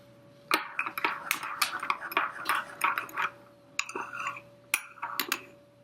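A spoon stirs organic sugar into a cup of coffee, clinking sharply against the cup in quick, irregular taps, close and clear with short pauses between bursts.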